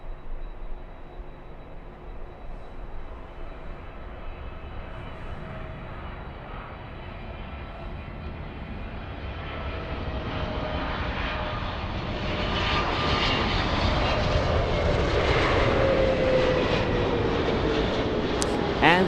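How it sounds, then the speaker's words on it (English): An Air France airliner flies by at LAX, its engine roar building from a distant rumble to a loud, close pass that stays steady without talk. "And the sound you just heard was Air France flying by."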